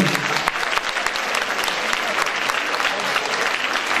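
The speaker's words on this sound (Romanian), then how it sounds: "El se numește Mihai Teacăr, numai aș vrea să-l aplaudați" Crowd at a Grand Prix 2014 song contest show applauding, with continuous dense clapping and scattered sharper claps for the whole stretch.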